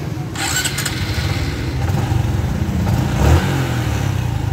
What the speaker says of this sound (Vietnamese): rồi bây giờ mình nổ máy xả gió ống sáu cái nha em